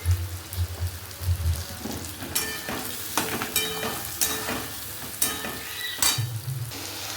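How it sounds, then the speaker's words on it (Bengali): Chopped onions fry in a pan for a curry being cooked in a village kitchen, giving a steady close sizzle broken by repeated stirring scrapes and clatters. "তারপরে পেঁয়াজ কুচি দিয়ে ভেজে নিচ্ছি পেঁয়াজটা"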